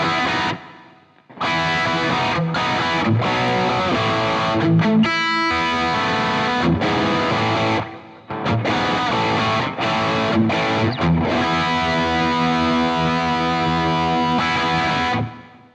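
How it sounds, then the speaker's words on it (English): Distorted electric guitar through a Boss Tube Amp Expander Core playing loud sustained phrases with brief breaks, notes washing into a long echoing, repeating tail of reverb and delay. "I've got lots of reverb and lots of delay."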